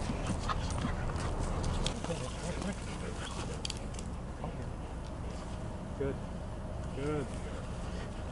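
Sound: dogs whimpering on a boat

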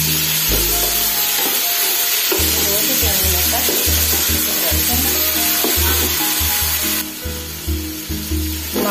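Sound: tomato, ginger and garlic frying in a pan

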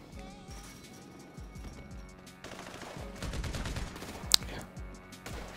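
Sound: MG submachine gun firing in video game GTA Online

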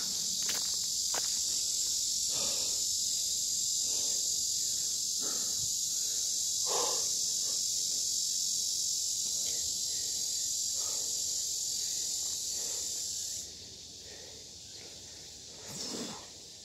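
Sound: many insects buzzing outdoors

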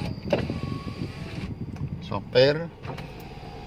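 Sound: car power windows being operated

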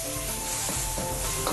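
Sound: frying pork tenderloin in a pan while stirring

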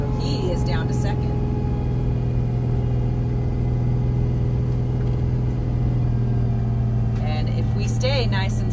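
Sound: super C motorhome engine in second gear on mountain descent

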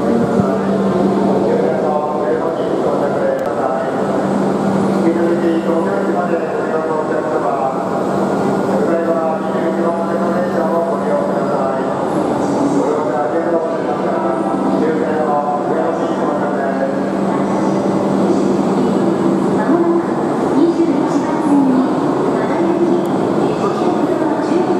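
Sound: Shinkansen train arriving at station

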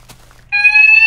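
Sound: building fire alarm going off

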